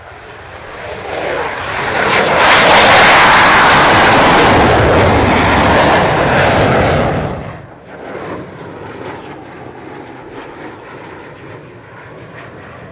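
A Solo Türk display jet roars past at an air show, a loud rushing engine roar that swells, holds for several seconds, then drops off sharply into a fainter, lingering rumble.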